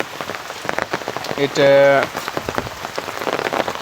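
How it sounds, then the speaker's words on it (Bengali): Heavy rain pours steadily during a flood in Noakhali, a constant dense hiss under someone talking nearby, with a brief tonal sound cutting through midway. "বৃষ্টি শুরু হয়েছে, এ মিলে থামাথামের কোনো লক্ষণ আমরা দেখতেছি না।"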